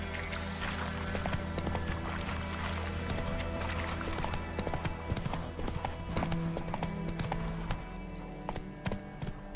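Roach, a horse in The Witcher 3, clip-clops along in a steady rhythmic trot with close, clear hoofbeats, tack jingling lightly and a low background hum.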